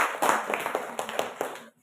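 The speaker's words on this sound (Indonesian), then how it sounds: "Kita berikan lagi tepuk tangan." A sixth-grade class gives a round of hand clapping during a Christian religious education lesson. The claps are scattered and uneven, some sharp and some soft, and they trail off into quiet by the end.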